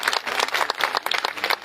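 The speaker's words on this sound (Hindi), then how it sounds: "ये लाइन वैसे ताली मांगती थी आप लोगों की, बजाइए भाई बजाइए।" Audience applause at a rally in Sarnath, with a steady crowd of clapping hands. It is loud and dense and continues through the whole moment without any talk.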